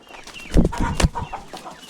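A chicken clucks several times in quick, close bursts, with soft background noise at a small backyard poultry farm in Konkan.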